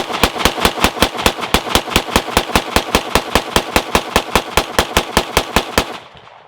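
A VZ58 rifle caked in mud and swamp muck fires a long string of rapid, evenly spaced shots, about thirty loud close cracks in steady rhythm, then stops abruptly.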